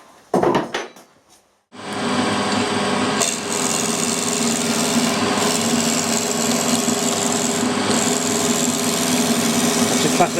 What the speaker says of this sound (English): plain milling. That's conventional milling, going into the direction of the cut.